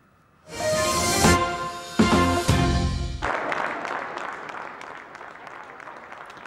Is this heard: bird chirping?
no